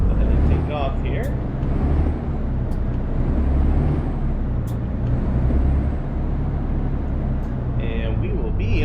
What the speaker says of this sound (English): Air brake out.